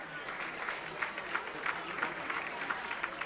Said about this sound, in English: I feel that we should give applause to everyone involved in this delicious meal tonight